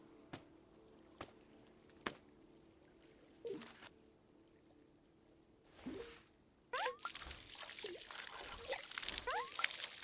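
Water pouring while watering plants in the video game Wanderstop, scattered drips and clicks that give way to a steady splashing pour with bubbling trickles over the last few seconds.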